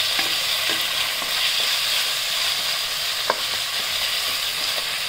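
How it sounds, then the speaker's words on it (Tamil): Two medium tomatoes sauté in a pan for crab gravy, a steady close sizzle and fry with occasional soft stirring scrapes of a spoon. "இப்போ தக்காளி வதங்கட்டும்"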